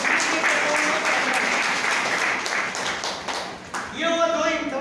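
Audience applause at a Hindi-language income seminar, loud dense clapping filling most of the stretch, thinning briefly before a fresh burst near the end, with a voice speaking over it.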